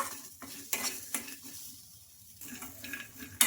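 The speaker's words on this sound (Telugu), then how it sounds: "ఈ కొబ్బరి కూడా ఒక నిమిషం పాటు ఫ్రై చేసుకోవాలి ఈ పల్లీలతో పాటు" Small pieces of fresh coconut and peanuts stir-frying in a pan. A spatula scrapes and clatters against the metal in uneven strokes, with a light sizzle underneath and one brief lull.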